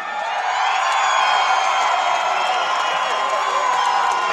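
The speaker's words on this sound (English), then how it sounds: "the crowd goes wild" Dense roaring crowd cheers and whoops at a CES 55 MMA event as a fighter walks to the cage, sustained and loud throughout with no break.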